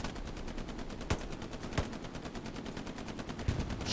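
Distant gunfire rattles in Hell Let Loose during a competitive match, rapid machine-gun bursts forming a steady stutter with a few heavier single shots punching through, faint and without speech.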